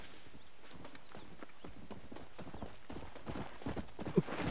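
Steady clip-clop of horse hooves at a trotting pace in Red Dead Redemption, moderately close, with a brief whinny near the end and no talking.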